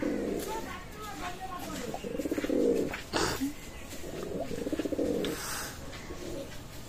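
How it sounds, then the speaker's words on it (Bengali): A male Royal Teddy pigeon of KTM direct bloodline cooing in repeated rhythmic bursts, close and clear, with someone talking intermittently over it. "মাশাআল্লাহ কবুতর এটা হচ্ছে নর কবুতর"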